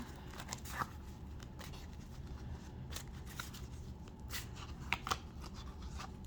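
Tarot cards shuffled by hand in a soft, continuous riffling and sliding pattern with occasional sharper flicks and snaps, quiet and close, with no talking.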